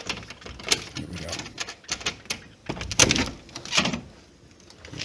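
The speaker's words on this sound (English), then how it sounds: "If I could open my door." A front door is opened on a porch with a series of clicks, a latch and scraping thumps, close by and uneven.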